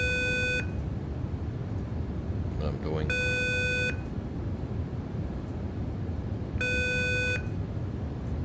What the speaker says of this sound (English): We have a phone call.